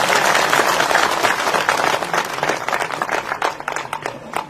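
A crowd gathered for a political speech in Sardarshahar claps loudly and steadily, the applause thinning into scattered individual claps toward the end.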